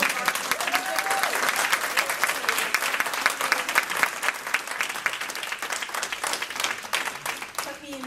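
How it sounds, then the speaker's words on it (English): Enthusiastic audience applause at a Pecha Kucha presentation night, dense rapid clapping from many people, loud and sustained for several seconds, with scattered voices and a few whoops underneath. "now we can give an enormous round of applause."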